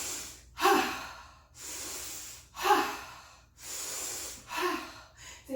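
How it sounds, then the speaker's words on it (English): Three strong, forceful breaths during a yoga class, each a loud rushing inhale-exhale with short pauses between, close and alone with no talk. "3 strong breaths."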